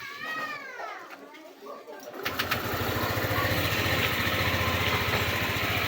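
A Euro Samurai 155 motorcycle engine, freshly adjusted to clear a valve tapping noise, starts up and settles into a steady, close idle with a continuous low rumble. Voices talk briefly at the start, before the engine starts.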